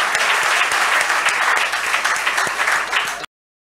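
An audience at a college induction program breaks into loud, dense applause that holds steady for about three seconds, then cuts off abruptly.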